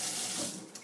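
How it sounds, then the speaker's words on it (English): Tap water runs steadily into a kitchen sink as hands are rinsed, a close, bright hiss that eases slightly near the end with a small splash. "I just need to rinse my hands here really quick"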